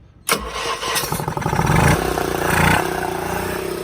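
An Onan marine generator engine cranks briefly and then fires up, settling into a loud, steady mid-pitched running hum with slight surges as it catches, heard close and alone.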